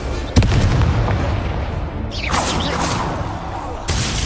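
Fiery spell bursts in a wizard video game: a sharp blast at the start, then roaring, crackling fire with a rising whoosh midway and another burst near the end, loud and continuous.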